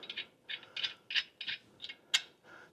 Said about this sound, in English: we're going to torque these to 140 foot-pounds